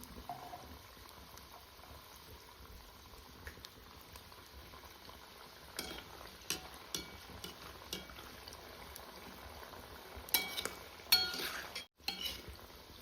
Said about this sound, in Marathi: तेल तापलेले शंकरपाळी टाकून घेतली मी इथं झाऱ्यानेच टाकते